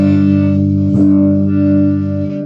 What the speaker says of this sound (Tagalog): Neck pickup, ito po yung tunog.